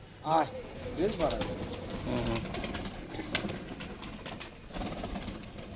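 Large Kaldum pigeons in a loft near Taldi, Canning, give a few soft coos amid a busy, rustling background, with occasional sharp knocks and low noise running underneath.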